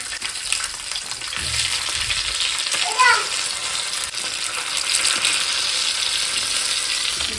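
Mackerel coated in masala fries in oil on a tawa, giving a dense, continuous sizzle at close range while a voice is heard briefly over it.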